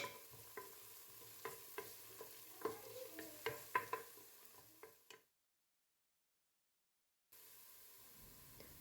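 Onion frying in olive oil in a pan, a soft sizzle broken by repeated scraping stir clicks for about five seconds, then a short silence before the quiet sizzling resumes.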